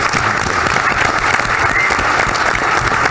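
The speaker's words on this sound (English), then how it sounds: "Can we have a round of applause for the career that this man has had?" Dense, loud applause from a roast audience fills the room steadily throughout, with a busy wash of many hands clapping and faint crowd murmur underneath.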